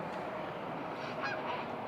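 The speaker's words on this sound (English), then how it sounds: "You can hear the birds in the distance, and there's also a couple of ducks" Geese or ducks honking outdoors on a December morning, a few faint calls rising over a steady, hissy outdoor background, fairly distant with no talking.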